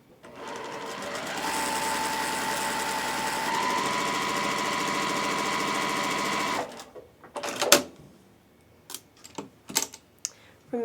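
A sewing machine stitches quilt fabric at a 2.0 stitch length in a fast, steady mechanical rhythm for several seconds, then stops, followed by scattered clicks and handling sounds.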